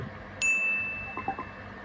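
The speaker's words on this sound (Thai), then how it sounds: "เราก็รอ4โมงมันก็จะแจ้งเตือน" A LINE Notify alert on a phone sounds as a single bright ding that rings on and fades slowly over a low room background, with no one talking.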